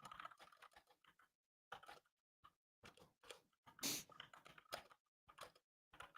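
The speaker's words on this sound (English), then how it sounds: "You typing?" Someone types on a computer keyboard in short, quiet bursts of rapid clicking, separated by brief silences, close to the microphone.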